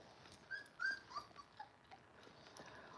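A puppy whimpers faintly, giving a few short, high whines close together and then trailing off into quiet room noise.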